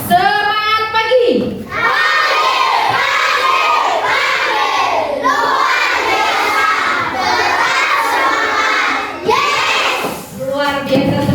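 A fourth-grade class of children shouts a morning cheer back to their teacher in unison, loud bursts of young voices in rhythmic chanted phrases with brief pauses between them.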